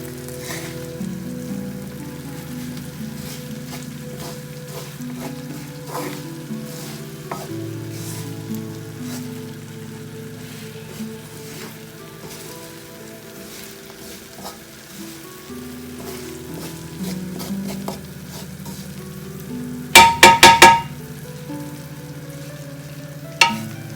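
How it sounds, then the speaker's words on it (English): Stuffed bell peppers frying in masala in a pan give off a steady close sizzle, with a brief burst of clattering stirring near the end. "Now I'll give it a stir so that this dry side also kind of gets fried."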